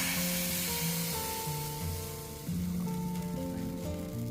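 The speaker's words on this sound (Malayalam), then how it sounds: "നമുക്ക് നല്ല ചൂടായിട്ട് നമുക്ക് അതിലേക്ക് പാരട്ടോ" Beetroot batter for a Kerala ottada hits a very hot pan and sizzles softly with a steady hiss, faint and partly overlaid by quiet background music.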